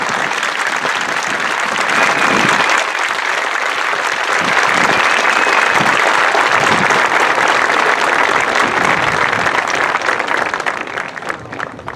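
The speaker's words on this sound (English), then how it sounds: "to please stand for a round of applause" Large graduation crowd at a high school ceremony bursts into loud, sustained applause honoring seniors entering military service, a dense continuous roar of clapping that holds steady before thinning at the end.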